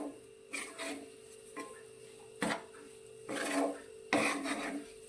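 Stirring green onion into an eggplant mixture in a pan for ringan oro, soft intermittent scraping and rubbing strokes of a spoon against the pan, several short bursts, close and fairly quiet.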